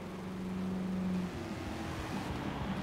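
Drift car engine held at high revs, around 4,500 to 4,800 RPM, a steady loud droning hum with a sustained tone that wavers slightly, continuous with no talking.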